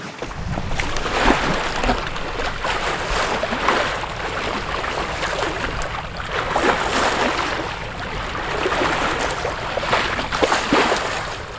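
A sailing boat runs downwind at about seven knots on a Bay of Biscay crossing, genoa poled out one side, main on the other and mizzen set; steady rushing water and wind noise swells and eases with the waves, with no talking.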